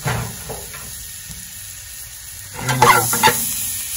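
Ground garlic for garlic shrimp frying in a pan, a soft continuous sizzle and hiss with a few louder stirring scrapes and knocks near the end, close by, no talking.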